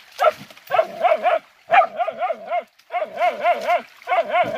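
Several pig hunting dogs bark repeatedly at close range in quick bursts separated by brief pauses, loud and energetic with no voices over them.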